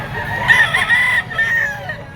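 A Gilmore Hatch bullstag rooster crows once, a loud, close, drawn-out call with a few clucks around it.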